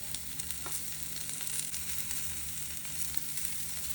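Onion frying in butter in a pan makes a quiet, even sizzle that holds steady throughout with only faint crackles.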